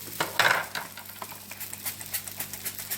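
Moroccan msemen, stuffed crêpes, frying in oil in a pan, giving a quiet, soft sizzle with a brief scrape near the start and light utensil clinks scattered over it.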